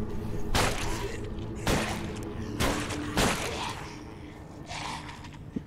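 Enemy gunfire in the video game Deadlight: four loud sharp shots spaced about a second apart, each with a broad crack and short tail, followed by fainter rumbling game ambience.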